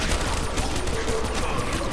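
An M14 rifle fired quickly in Black Ops 3 zombies on the Ascension map, a fast run of sharp cracking shots packed closely together over constant game noise.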